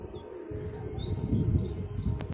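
Pigeons cooing softly with brief chirps and a light flutter of wings as a pair flies about, heard close and fairly quiet over a low, steady background.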